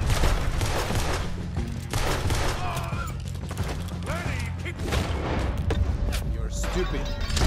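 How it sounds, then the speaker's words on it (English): Sustained gunfire during a Red Dead Redemption 2 street shootout, with a steady stream of sharp, close shots and bursts under talking voices. "They keep shooting at us."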